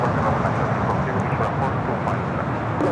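An airliner bound for Kahului takes off from the north side of a large airport, heard as a broad, steady engine roar at a distance with wind noise throughout.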